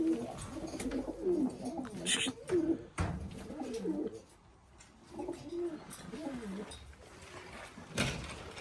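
Pigeons cooing close by in a coop, soft repeated throaty warbles in several bursts, with a few knocks and a brief voice among them.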